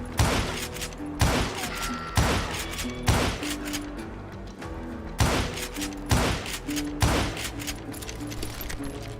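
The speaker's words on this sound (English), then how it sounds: "Incoming fire!" Video game gunfire: about eight loud, evenly spaced shots boom out across the stretch, each followed by a short ringing decay over a low background hum.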